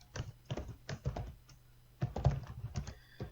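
Close, quiet clicking of a computer keyboard in irregular clusters of keystrokes, with short pauses between bursts.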